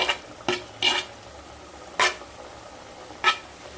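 Fried okra is stirred into a spiced yogurt curry in a pan, with several separate scraping stirs over a soft background sizzle.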